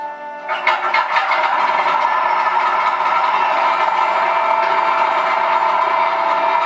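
Engine of a 1923 Army monoplane before takeoff, a loud, steady droning roar with rich harmonic tones that builds in the first second and then holds constant.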